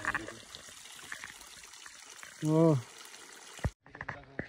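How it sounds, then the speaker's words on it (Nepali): Very cold mountain water flowing, a soft steady trickle and pour heard close under a voice that speaks briefly, with a short humming tone midway. "हेर्नुहोस्, बहुत चिसो पानी, बहुत मिठो मिठो पानी"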